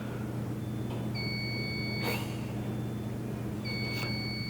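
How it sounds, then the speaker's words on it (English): Electronic alarm beeping in a gym during a chest workout, two steady high-pitched tones sounding in long stretches over a constant low machine hum, with brief broadband bursts between them. "I'm so pissed about this alarm."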